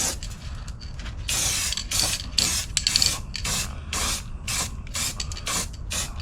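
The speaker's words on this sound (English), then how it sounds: "I need to spray in there with some etch primer." Aerosol can of etch primer sprayed inside a car's sill, with repeated hissing bursts of spray of varying length, close and loud, alongside faint rattling of the can and no talk.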